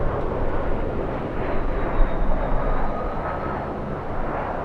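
Lufthansa Boeing 747 taxiing at Los Angeles airport, a broad continuous jet engine roar with a faint high whine on top, steady and moderately close, with no talking.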